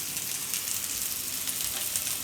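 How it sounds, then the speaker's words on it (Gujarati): Hot oil tempering for gravy, made for a Gujarati stuffed ridge gourd curry, sizzles in a pan with a loud, dense, continuous crackle that stays close and steady throughout. "તેને બીજા ગેસ ઉપર રાખી દઉં ને ગ્રેવીનો વઘાર કરી લઉં"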